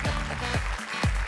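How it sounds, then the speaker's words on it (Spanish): Studio audience applause on the Argentine TV game show El Precio Justo, a brief steady wash of clapping mixed with a host's voice and music. "Fuerte el aplauso."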